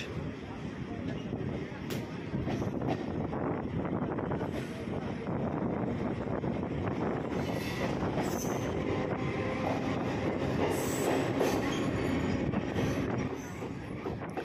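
Kolkata Circular Railway train running on its tracks near Chitpur and Bagbazar, a steady loud rumble and rattle of wheels and carriages with wind noise, heard from on board throughout.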